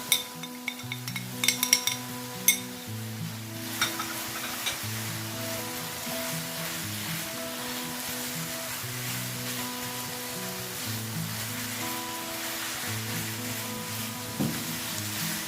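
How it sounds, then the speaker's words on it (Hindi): Lasagna filling seasoned with salt, red chili powder, black pepper and oregano sizzles in a pan while being stirred, with clinks and scrapes of a utensil against metal, loudest early on, then a steady close sizzle with no talking. "अच्छी तरह इसको आप मिक्स करेंगे"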